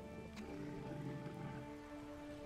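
Steady rain hisses through a match of the Battle for Middle-earth strategy game, a constant even wash with tonal game sounds humming beneath it and no speech.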